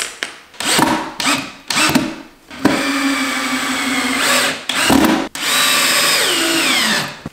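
A cordless power drill drives screws into wood panels while assembling a bartop arcade cabinet, with several short whirring bursts followed by longer sustained runs that bog down and pitch shift as each screw seats, loud and close with no talking.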